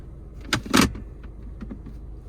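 Rattling of the center console in a 2017 Honda CR-V 2.0 being shaken by hand, a few sharp plastic clatters close together, then lighter scattered knocks, close and fairly loud.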